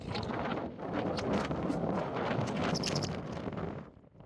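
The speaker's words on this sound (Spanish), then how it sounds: "Hace un ventarrón." Strong wind gusting at the 4,300-metre summit of Pikes Peak, Colorado, a loud, continuous broadband roar buffeting the microphone throughout, easing briefly near the end.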